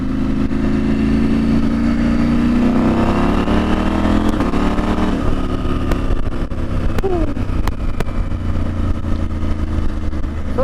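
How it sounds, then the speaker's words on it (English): KTM motorcycle engine and exhaust running steadily with a loud, close droning note and slight throttle changes, no talk over it. "I know the exhaust note is slightly louder"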